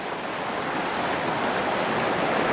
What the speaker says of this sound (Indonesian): tapi air terjunnya sudah mulai terdengar.